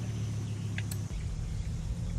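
A 5.2 V8 engine in Forza Horizon 5 idles as a deep, rumbling burble, steady and near, with a brief click partway through.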